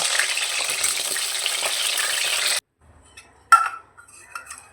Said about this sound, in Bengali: আর এদিকে আমি বেগুনগুলো ভেজে তুলে রাখছি।